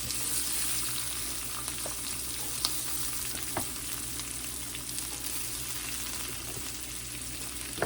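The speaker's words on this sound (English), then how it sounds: "Now I've got a little bit of butter and a little bit of avocado oil. Okay. Getting them all sauteed in here." Vegetables sautéing in butter and avocado oil in a pan for a home Mother's Day dinner, giving a steady close sizzle and crackle with a few light stirring clinks and no talking.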